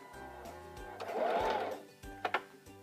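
A Singer Simple 3337 sewing machine runs a straight stitch with a fast, steady mechanical whirr and rhythmic needle thumps, close and alone, with brief pauses and clicks near the end.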